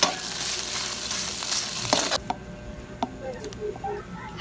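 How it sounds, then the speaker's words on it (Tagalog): Garlic, onion and ground meat sautéing in a pan, a steady frying sizzle with stirring scrapes, the sizzle dropping off midway and leaving sparse clinks and soft stirring noises. "Mag-gisa tayo ngayon ng bawang, sibuyas. Lagay na natin ang giniling."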